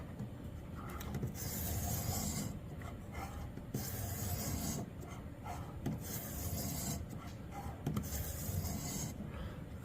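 A knife blade is sharpened on a Xarilk Gen3 clamp-style sharpener with steady, close rasping strokes that repeat back and forth in an even rhythm, quiet and scratchy, with no voices.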